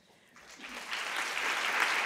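An audience bursts into applause at the 2011 I Love My Librarian award ceremony, the clapping swelling quickly from quiet into a full, sustained ovation filling the hall.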